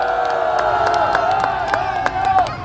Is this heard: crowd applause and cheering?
yes